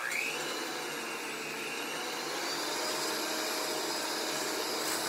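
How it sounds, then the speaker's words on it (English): Electric mixer whisking fresh whipped cream, a steady high-pitched whirring hum held continuously at moderate volume, with no talk. "you're just gonna turn on your mixer and you're gonna whisk"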